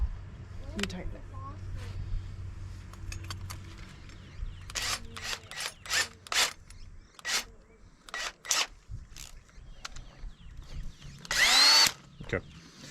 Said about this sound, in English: we are going to auger a little hole down here